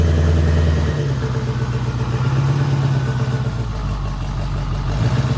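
A car engine that had sat unused for over a year runs steadily as the vehicle is moved into position for loading, a loud close idle with a rough mechanical rumble throughout and no talk.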